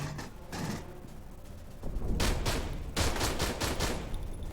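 Gunfire in the video game Aliens: Colonial Marines comes in loud, close bursts of rapid shots with short pauses between volleys and mechanical clatter in the gaps.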